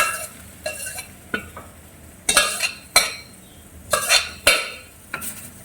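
Sambar poured into a hot tempering and stirred with a ladle, giving irregular scraping and clinking strokes against the pan with brief sizzling bursts. The sounds come in separate, close, fairly loud hits with short pauses, and no one speaks.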